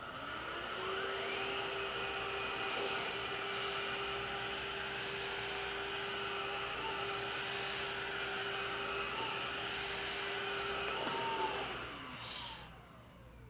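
A Miele HX1 stick vacuum fitted with a soft roller runs on carpet, a steady close whine and airy roar holding level throughout before winding down at the end.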